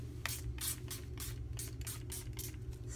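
Acrylic paint thinned with distilled water is sprayed from a pump bottle in short hissing bursts, about eight quick pumps in steady rhythm over a constant low hum.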